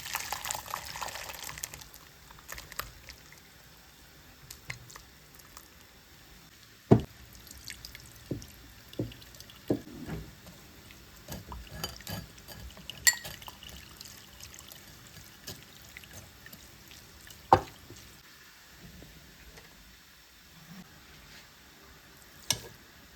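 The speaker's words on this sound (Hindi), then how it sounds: "उसके बाद इसको छलनी में डाल के पानी के साथ धो लेना है" Freshly separated paneer is rinsed with water in a kitchen strainer, giving quiet, irregular drips and small trickles with occasional sharper splashes over a hushed background.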